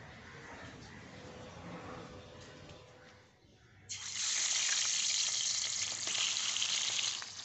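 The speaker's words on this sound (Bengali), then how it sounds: "মাছের মাথাটাকে ভেজে নেওয়ার জন্য কড়াইতে আমি দিয়ে দিচ্ছি পরিমাণ মতো তেল।" Hot oil in a wok, quiet at first with faint clatter, then a fish head drops in and a loud, steady frying hiss fills the rest, close and continuous with no voices.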